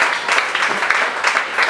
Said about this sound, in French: On peut acclamer pour la parole du Seigneur